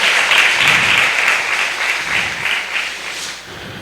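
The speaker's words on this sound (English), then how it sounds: "Let's give her another round of applause," A gala crowd at an emancipation celebration gives a speaker another round of applause, loud and sustained clapping that slowly tapers.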